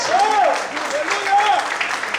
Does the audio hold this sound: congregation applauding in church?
yes